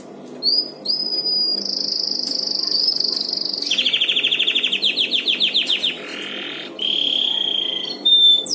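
A caged canary sings on its own, loud and close, with long bright whistles, buzzy rapid trills and repeated chirping phrases over several seconds.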